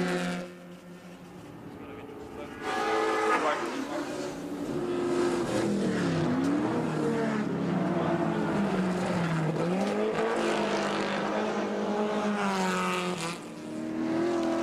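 Race cars at the 1976 Bathurst race, including the Hardy Ferodo car, roar past with a continuous loud engine drone, rising and falling pitch as they accelerate and brake, with faint commentary beneath.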